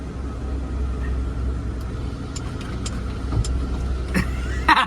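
A 1994 Ford F250 LX pickup with a no-crank, no-start fault sits rumbling at close range after the ignition key turns, a steady low engine-like drone with a few faint clicks and knocks and no talking.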